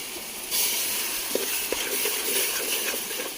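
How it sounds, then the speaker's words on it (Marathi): Water poured into a hot cooking pot during outdoor village cooking of a chicken curry sets off a sudden, loud, steady steamy hiss that holds with small crackles throughout. "थोडस पाणी टाकूया"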